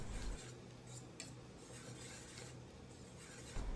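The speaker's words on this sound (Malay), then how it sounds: "Kacau adunan putih dan cendol ni sehingga sekata." A spoon stirs cendol into a thickened white coconut batter in a pot, a soft continuous scraping and sticky swishing, quiet and close, with a slight knock at the start and end.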